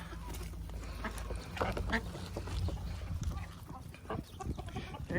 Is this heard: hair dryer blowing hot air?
no